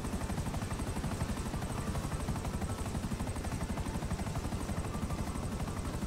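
A helicopter in Grand Theft Auto V chops steadily with a fast, even rotor beat and a broad engine drone, loud and continuous throughout with no talk.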